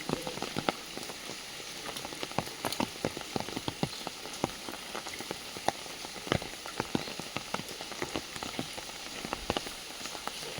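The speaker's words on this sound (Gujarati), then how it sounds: "કાલનો આખો દિવસ વરસાદ પડ્યો તો બંધ જ નહીં થયો અત્યાર સુધી" Heavy rain falls steadily, with a dense hiss of drops and many sharp splatters and taps on nearby surfaces, and no voices.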